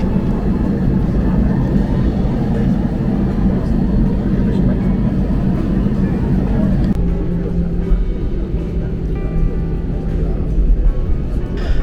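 A Lufthansa Airbus airliner begins to taxi, its engines giving a loud, steady low drone that shifts in tone partway through, with voices faintly present in the background.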